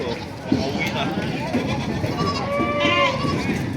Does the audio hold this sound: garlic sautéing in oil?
no